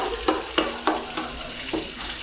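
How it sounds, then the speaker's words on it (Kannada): Onions go into hot oil in a frying pan for Ambur biryani, a steady sizzle broken by several scraping stirs of a spoon against the pan, close and with no voices. "ಇವಾಗ ಈರುಳ್ಳಿ ಹಾಕ್ತಾರೆ."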